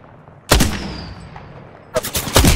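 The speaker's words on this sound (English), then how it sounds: "Opening fire." Gunfire in the battle royale game Apex Legends: one sharp shot rings out, then after a quiet pause a rapid burst of several close, loud shots follows, with no talking over it.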